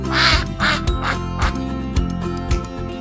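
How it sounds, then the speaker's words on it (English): A duck quacks repeatedly in a farm-animal setting, a run of loud, close, nasal quacks in quick succession that fills the whole stretch. "Duck."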